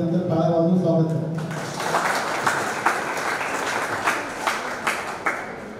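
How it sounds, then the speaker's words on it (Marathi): A crowd at a wheelchair distribution ceremony on Ahilyadevi Holkar's birth anniversary breaks into steady clapping to welcome the donors, after a brief stretch of talk. The applause is moderately loud and sustained, with a few sharper claps standing out. "सर्वांनी आपलं त्यांचं टाळ्या वाजवून स्वागत केलं"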